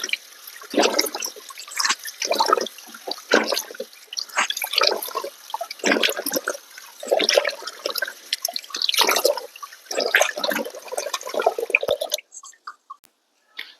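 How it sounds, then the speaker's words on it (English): Running tap water splashes as a face is washed at a sink, with irregular bursts of close, bright splashing and dripping that stop abruptly near the end, and no speech. "So I just washed my face"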